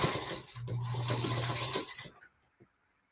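An old sewing machine stitches a fabric postcard in one steady whirring run of about a second and a half, then stops, leaving a brief faint clack before silence.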